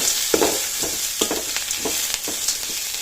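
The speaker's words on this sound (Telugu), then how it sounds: "ఇప్పుడు మనం కరివేపాకు వేసి ఫ్రై చేసుకుందాము ఇలా కరివేపాకు వేసి ఫ్రై చేసుకుందాము" Curry leaves frying in hot oil while being stirred for curry leaves rice: a steady bright sizzle with periodic scraping strokes of a spatula, close and continuous, no voices.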